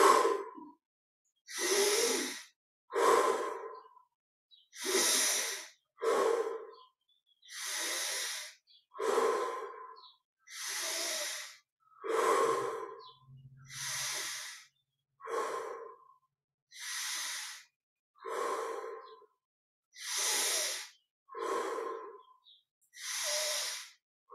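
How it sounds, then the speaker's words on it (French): Slow, deep breaths drawn in through the nose and released through the mouth during a guided meditation, a steady series of airy inhales and exhales recorded close in quiet surroundings, with a soft low voice briefly heard. "Grande inspire par le nez. On laisse l'air sortir par la bouche."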